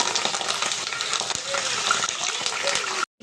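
Curry leaves, onion, crushed garlic and cumin fry in hot oil with fenugreek seeds, giving a steady close sizzle and hiss, with occasional stirring scrapes. Someone speaks over it.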